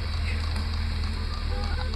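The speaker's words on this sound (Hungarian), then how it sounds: "Tábortűz Erakleában." Campfire burning at night in Heraclea, Italy, a continuous soft crackle and pop beneath a low steady background hum and distant murmur of voices.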